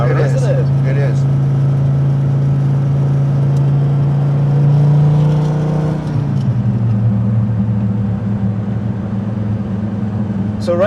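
A 1999 Dodge Viper GTS ACR engine drones in fourth gear, a loud steady low-pitched hum from inside the cabin that shifts slightly in tone partway through, with people talking over it.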